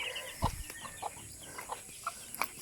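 A hen clucks on a provincial farm where chickens are laying eggs, a series of short, soft, evenly spaced clucks heard close by and fairly quiet against a low background hiss.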